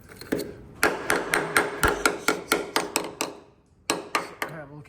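A hammer taps along a car chassis during welding repair work, giving a quick rhythmic series of about a dozen sharp metallic knocks close by, a brief pause, then a few more strikes.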